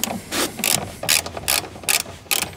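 A ratchet with a 10 mm socket loosens a screw while attaching feet to a vending machine: about nine quick, crisp clicking bursts in an even back-and-forth rhythm, close and alone.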